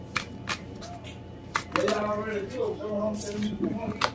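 Quick riffling bursts of tarot cards being shuffled, several short rustles scattered between stretches of someone talking.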